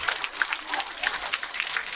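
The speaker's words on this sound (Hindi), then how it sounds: "चलो ताली बजाओ अपने लिए।" A women's audience at a Patanjali yoga gathering claps for themselves, a dense, steady patter of many hands that continues evenly throughout.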